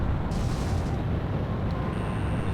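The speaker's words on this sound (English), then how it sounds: "Garuda 1 destroyed the target." Explosion of a destroyed target in the Ace Combat 6 flight combat game, a dense continuous rumbling roar with booming low end that stays loud and steady throughout, with no voices over it.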